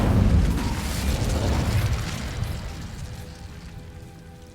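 A fiery Incendio spell explosion in Hogwarts Legacy: a loud, close burst that erupts at once with a deep rumble, then fades slowly over several seconds. No voices.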